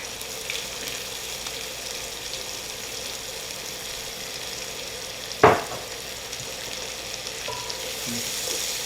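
Diced shallots and garlic drop into a pan with crispy pancetta, a soft continuous sizzle and frying hiss throughout, with one sharp clatter midway and faint stirring scrapes.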